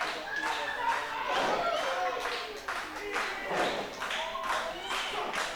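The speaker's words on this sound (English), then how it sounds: "these fans cheer Alpha Omega to try to boost Kenny Alfonso up" Wrestling fans at a televised match, cheering and clapping in bursts at a moderate distance while a commentator speaks over the crowd.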